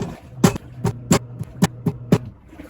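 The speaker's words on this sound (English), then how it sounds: "Washer going in the background." A washing machine runs nearby with a low steady hum, broken by a regular series of sharp thumps roughly every few tenths of a second.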